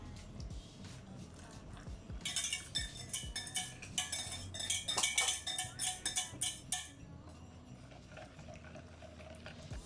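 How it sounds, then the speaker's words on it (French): A spoon or whisk stirring hot cream into chocolate in a bowl, producing quick, faint clinks and scrapes in a rhythmic burst for several seconds in a quiet kitchen. "on va venir l'ajouter directement dans notre chocolat et mélanger"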